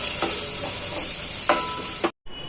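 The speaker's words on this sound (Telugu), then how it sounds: "ఇలా పోపు వేగిన తర్వాత స్టవ్ ఆఫ్ చేసి వేసి 1 నిమిషం ఇట్లాగా కలుపుకోవాలి" Tempering being stirred in a pan right after the stove is switched off, with a steady loud sizzle and a few spoon scrapes, ending abruptly, no talk.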